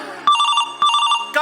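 Telephone ringing onstage during a theatre drama about violence against doctors: two loud electronic double-ring bursts, each about half a second, separated by a short pause, with a third starting at the end.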